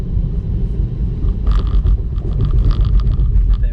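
A Tesla driving itself on FSD Beta rolls over a railroad crossing, with a steady low road rumble inside the cabin, followed by a run of thumps and rattles as the tires cross the rails.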